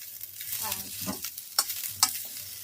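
Onion and cabbage are stir-fried in a pan for market-style chowmein, giving a soft sizzle under stirring scrapes and a couple of sharp spatula clicks. The cooking is quiet and close, with no speech.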